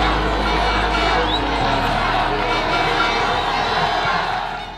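A dense crowd cheers and shouts along the Vendée Globe departure channel, loud and continuous, with children's voices and whoops rising from a steady roar.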